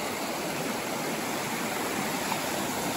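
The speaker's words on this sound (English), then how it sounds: "Cold, clear water." Cold, clear stream water flowing at a trail water source along the Appalachian Trail, a steady, even rush of running water heard alone and fairly close throughout.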